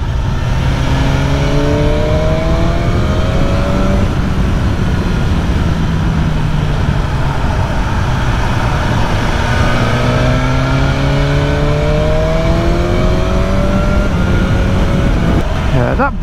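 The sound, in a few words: BMW S1000R motorcycle engine accelerating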